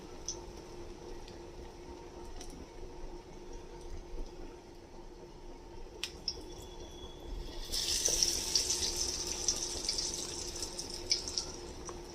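Pakoras frying in oil over a low flame, giving a steady, soft, watery sizzle that swells louder after the middle, with no talking.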